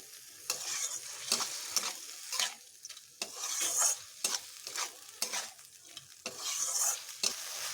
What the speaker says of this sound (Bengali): আর একটু ভালোভাবে ভেজে নিচ্ছি এবার আমি একটু জল অ্যাড করছি